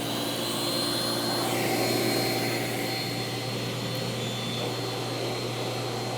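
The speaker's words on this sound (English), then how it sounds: "I'm going to turn the pump on, the heater's on, and I'm going to turn the vac on" A Tornado Surge carpet extractor running with its pump, heater and vacuum on, a loud steady whining motor drone with a constant hum and no voices.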